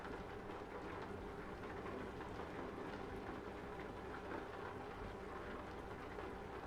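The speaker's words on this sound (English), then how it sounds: "Is it just gonna rain the entire bloody episode?" Steady, dense video game rainfall in Euro Truck Simulator 2 with a low rumbling undertone runs without a break, quiet and even throughout.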